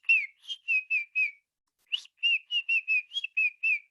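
A person whistles an imitation of a northern Baltimore oriole song: a loud, clear run of five short notes, a pause, then a longer burst of about nine rapid notes, alone against silence.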